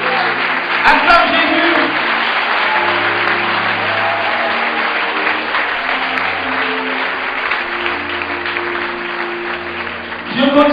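A congregation at a Christian gathering applauding and cheering to acclaim the Lord, a loud, continuous wash of clapping with voices mixed in that carries on throughout.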